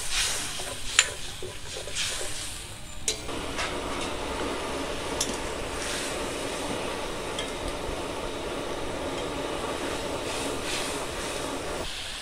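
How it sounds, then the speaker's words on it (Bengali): Watery gravy poured into spiced masala frying in a pan for a Bengali bhola fish curry, a steady bubbling sizzle that swells after a brief stir and holds evenly close by, with no talking. "এখন আমি পরিমাণ মতো ঝোল দিয়ে দেবো এতে"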